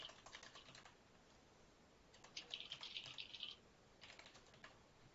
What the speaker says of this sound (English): Are we both typing it in?